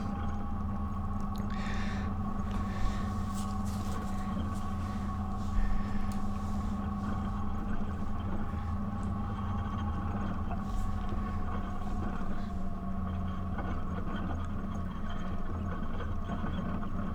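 A Can-Am side-by-side runs along a trail in Wyoming's Bighorn Mountains, its engine a steady droning hum with rumbling undertone and scattered rattles throughout, no voices.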